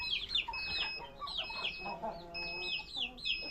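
Country chickens on a village poultry farm cluck and call repeatedly in short, bright bursts. They sound close and moderately loud, with a faint background and no talk.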